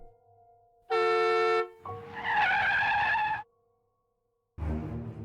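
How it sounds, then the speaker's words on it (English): A loud sustained car horn blast in a video game, followed by a long screech of emergency braking, then a short pause and another harsh burst of sound. "It always starts with the sound of a car horn and emergency brakes."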